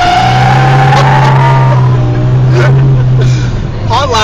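A BMW M5 on a hot lap with a professional driver, engine droning loud and steady inside the cabin with shifting tones, while people talk over it.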